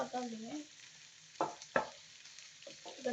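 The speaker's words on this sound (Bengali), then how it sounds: "এখন আমি নেড়ে নিচ্ছি" Chickpea biryani is stirred in a pan, a few quiet scraping strokes over a faint sizzle, with a brief voice at the start.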